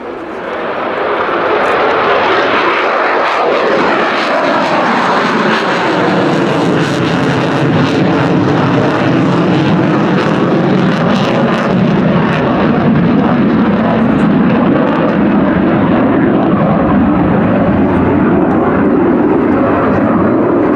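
Aerobatic display team aircraft perform at the Royal International Air Tattoo, Fairford, producing a loud, sustained engine roar that swells and shifts in pitch as the planes pass overhead, with no talk.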